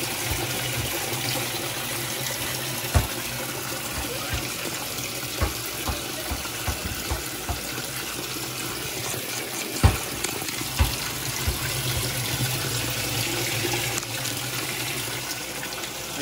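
Tap water runs steadily into a sink during a rinse, a continuous splashing hiss with scattered soft knocks and clunks of items in the basin.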